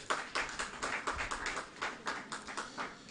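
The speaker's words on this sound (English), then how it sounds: "Please, a round of applause for her." Faint, evenly spaced hand claps at a youth proclamation gathering, about a dozen crisp claps in a steady rhythm, sounding like only a few people clapping at a distance.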